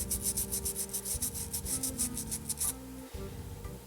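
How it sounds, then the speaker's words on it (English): Small circuit board edges rubbed smooth with 400 grit sandpaper while building a Erica Synths EDU VCA eurorack kit: steady close back-and-forth scratchy strokes for about three seconds, then a brief quieter pause and a final rub, no talking. "400 grit sandpaper"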